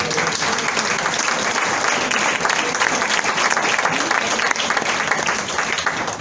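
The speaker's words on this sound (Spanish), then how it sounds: "Dale fuerte el aplauso al Señor." A church congregation applauds during a Spanish-language sermon, with dense, sustained clapping from a full crowd that stays loud and even for several seconds.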